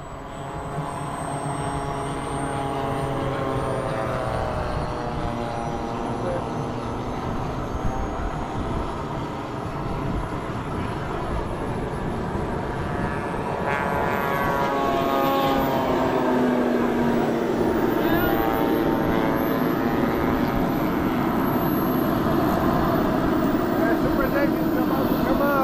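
A T-20 and a Trojan warbird propeller aircraft take off at a bomber field, their engines producing a loud, continuous drone that swells and sweeps in pitch as they climb, with no voices heard.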